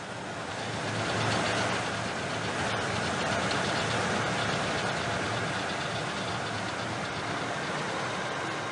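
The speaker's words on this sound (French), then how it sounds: "Puis la puissance du moteur diminue." Boat engine losing power on a river journey, with a smell of fuel from a failed fuel line seal: a steady, loud, rough droning run with no clear pauses.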